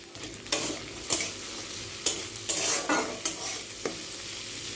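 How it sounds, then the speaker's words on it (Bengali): Peeled pumpkin seeds fry in hot ghee in a pan, a steady sizzle broken by repeated scraping stirs of a spoon, close and clear with no talking. "এটি কিন্তু ঘিয়ের মধ্যে ভাজতেছি"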